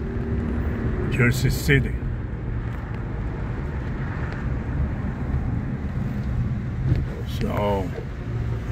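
A car drives along Union Street in Jersey City, its steady road and engine rumble with wind buffeting the microphone throughout, while someone talks over it.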